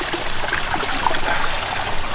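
Water pouring steadily into an aquarium holding pellet-eating fish including an Oscar, a continuous close trickling splash with no voices.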